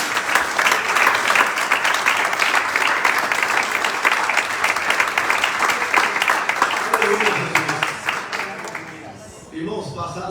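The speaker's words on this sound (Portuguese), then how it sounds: "Você pode aplaudir Jesus, irmãos?" A church congregation at a Portuguese-language evangelical service applauds loudly and steadily for about nine seconds, a dense wash of many hands, then fades as a few voices and noises remain at the end.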